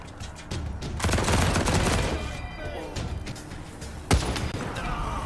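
Gunfire bursts in the game Wasteland 3, a dense volley of overlapping shots over the first few seconds, then a sharp loud blast near the four-second mark, with steady battle noise underneath.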